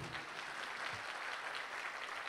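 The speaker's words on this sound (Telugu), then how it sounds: "we have to encourage and we have to give a big clap" An audience at a Telugu film audio launch event claps steadily, a dense, moderately loud round of applause heard throughout with no speech.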